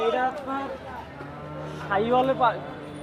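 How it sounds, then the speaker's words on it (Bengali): A Sahiwal-Friesian cross cow lows with a deep, drawn-out moo close by at a cattle market, while people talk over it. "এই টিটন ভাই, এটা কি জাতের গরু?"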